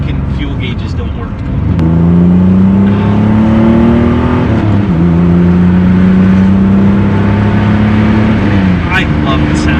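A Pontiac Fiero engine drones steadily while driving, a loud sustained hum that rises and settles with shifts in speed, with some wind noise over it.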